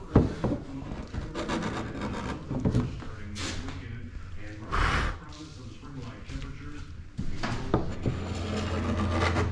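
Varnish is scraped off a wooden utility room cabinet with a putty knife. Repeated raspy scraping strokes sit close, mixed with rubbing and knocks on the wood, and someone talks over much of it.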